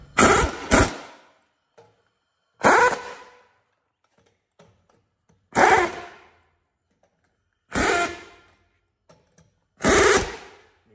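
Impact wrench tightening the lug nuts on a semi truck steer wheel while changing an 11R22.5 tire: five loud, separate pneumatic bursts about two seconds apart, each a harsh rattling hammer that cuts off abruptly, with quiet gaps between.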